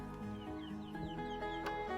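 A hen clucks and calls in short, faint, repeated notes over a steady low background hum, a few soft clucks spaced across two seconds.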